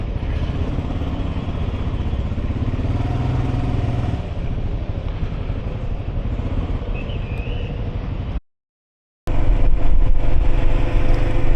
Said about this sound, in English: Look at this crazy traffic.